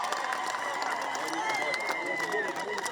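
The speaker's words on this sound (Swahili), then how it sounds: "Fina vigelegele." Crowd ululation with high, warbling trills rising over steady applause and cheering at the launch of the Meru Umoja Irrigation Development Project in Meru, Kenya, during a presidential visit; dense and continuous throughout.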